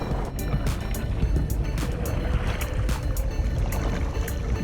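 Kayak paddling into Small Lagoon at El Nido, with steady water wash and wind noise and a series of short splashy paddle strokes recurring roughly every half second to second, fairly close.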